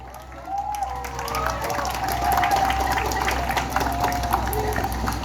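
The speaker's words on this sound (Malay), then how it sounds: "Beri tepukan kepada guru-guru Al-Falah." Audience in a school hall at a closing ceremony applauding their teachers, a dense, sustained wave of clapping with some cheering that builds and holds steady for several seconds.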